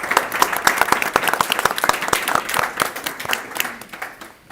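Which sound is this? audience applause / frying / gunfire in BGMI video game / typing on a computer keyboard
audience applause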